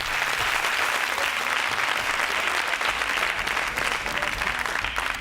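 Sustained applause fills the room after a leadership debate on a competition show, steady and dense from start to finish with no voices over it.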